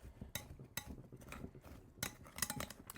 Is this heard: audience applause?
no